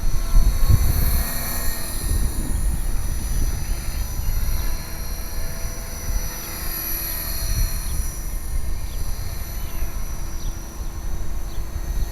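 A 450-size model helicopter whines and buzzes steadily overhead at a flying field, its high-pitched motor holding a constant drone with a low rumble beneath.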